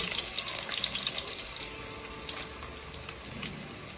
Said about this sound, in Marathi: तेल गरम झालेलं आहे, त्यात आधी लसूण, त्याच्यानंतर खडे मसाले